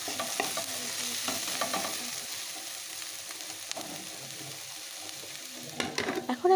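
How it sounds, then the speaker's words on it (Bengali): Small-cut potatoes and onions fry in a pan with a steady close sizzle, punctuated by frequent spatula scrapes and a louder clatter of stirring near the end. "পেঁয়াজটা দেওয়ার পরেও আলু পেঁয়াজটা একটু বেশ ভালো করে ভেজে নিচ্ছি"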